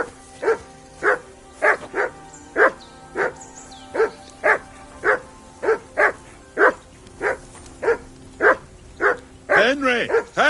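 A dog in the video game Kingdom Come: Deliverance II barks repeatedly at an even, steady rhythm, with about twenty loud, close barks. A burst of quicker, tangled yelps comes at the end.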